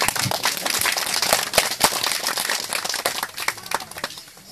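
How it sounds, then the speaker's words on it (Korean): A church congregation applauds, a dense, close burst of clapping that runs steadily and then thins out and fades toward the end. "저를 포함 뜨겁게 박수로 감사를 드립니다."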